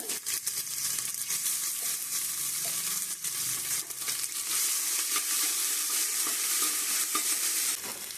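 Curry leaves and ginger-garlic paste fry in a pan with a constant bright sizzle, stirred with soft scraping and clinks throughout, close and moderately quiet, no talking.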